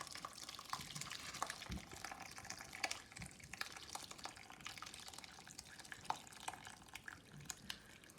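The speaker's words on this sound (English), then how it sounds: "Pour that very carefully through the sieve." Thin liquid trickles and drips steadily through a sieve during cheese making, a quiet continuous pour with scattered droplet sounds.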